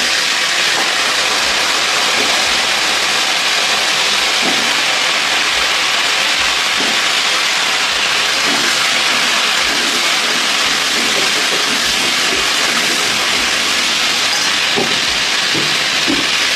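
Cauliflower fries in hot oil with cumin in a pan, producing a loud, continuous, close hiss and sizzle with faint occasional knocks underneath, and no talk.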